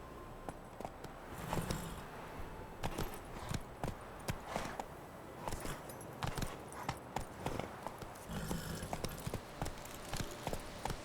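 Horse hooves clip-clopping at a quick gallop in The Legend of Zelda Breath of the Wild, steady repeated beats close by with a few bursts of faster strides and no talk.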